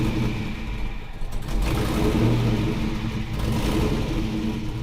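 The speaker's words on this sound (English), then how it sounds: "Now it's on idle. I have to give it a little bit of gas." A 1957 Chevy engine being tuned up runs at idle and is given gas, its steady mid-range rumble swelling into a rev and holding loud and close throughout, with no talk.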